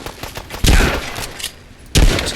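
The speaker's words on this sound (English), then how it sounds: "Perhaps I should use this shotgun." Shotgun blasts fired in the video game Fallout: London, two loud booming shots about a second and a half apart, each with a rumbling tail over a busy background of game noise.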